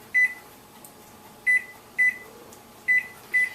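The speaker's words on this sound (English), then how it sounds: "we're going to put the timer on the microwave" A microwave oven used to cook homemade matzo gives short electronic beeps, five in all at uneven intervals, over a faint steady hum with no talking.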